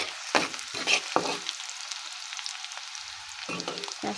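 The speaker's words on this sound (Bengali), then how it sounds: "পেঁয়াজটা লাল করে নিচ্ছি।" Onion frying in a pan until browned, a steady hissing sizzle broken by a few clinks and stirring scrapes, close and moderately loud.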